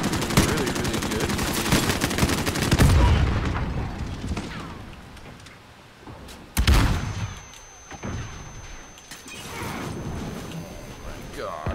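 A light machine gun firing in the Modern Warfare video game, long rapid bursts up close followed by sharper single blasts and booms, with a player talking between the shots.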